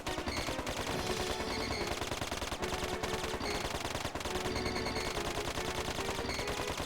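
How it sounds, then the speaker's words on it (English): Dense, continuous gunfire in the video game Dark Cloud 2, a relentless stream of rapid shots with no pause, loud and close, with no talking. "That is a lot of bullets."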